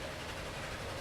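A train runs in the rail transport simulation game Transport Fever, a steady wash of rolling rail noise and rumble that stays continuous and even throughout, with no voices.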